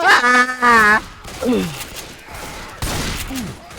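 Gunfire in the zombie shooter Left 4 Dead comes in rapid bursts while players shout and groan loudly over it, close and chaotic.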